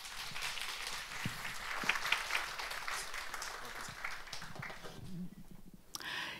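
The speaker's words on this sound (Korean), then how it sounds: "큰 박수로 모시겠습니다" A church congregation gives warm applause to welcome a woman evangelist, a steady wash of clapping that drops away near the end, fairly distant and soft.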